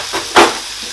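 A plantain beef burger patty cooking in a hot pan, a soft steady sizzle with a brief louder hiss and scrape around the middle as it shifts in the pan, close and clear with no talk.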